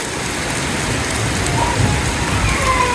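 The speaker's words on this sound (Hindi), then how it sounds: "अभी 5:30-6 बज रहे हैं और बहुत तेज़ बारिश हो रही है" Heavy rain pours down in a steady, dense hiss that stays loud and unbroken throughout, with no voices over it.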